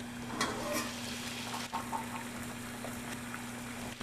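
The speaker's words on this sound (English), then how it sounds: "Right here I have some boiling water." A pot of water boils for cooking pasta, a faint, steady bubbling and hiss with a few soft pops, heard alone at close range.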